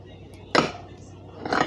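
A big kitchen knife chops down through a stack of sandwiches, one sharp cut followed by a second softer cut near the end, close by, over faint room noise.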